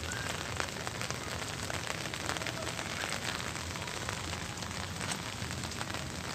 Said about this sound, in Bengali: অনেক সুন্দর লাগে বৃষ্টির পানিতে ফুলগুলো